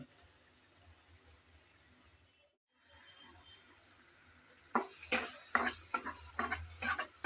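Prawn pickle cooking in deep oil in a pan after vinegar is added: a quiet steady hiss at first, then loud bursts of sizzling and crackling with repeated stirring scrapes.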